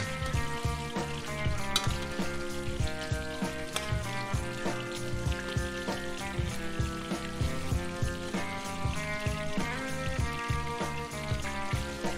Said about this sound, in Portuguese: A gente usa uma colher para regar o peito com a manteiga quente.